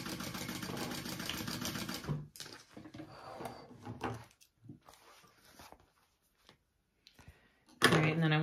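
A sewing machine runs in a steady, buzzing burst as it stitches the top seam of a Pachira bag. Quiet fabric handling and small clicks follow, and a short whir of the machine returns at the end.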